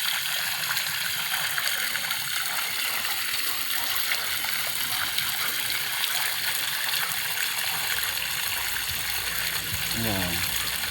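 Water gushes steadily from a newly installed submersible pump, a loud broadband rushing flow throughout, with faint voices talking nearby in the background.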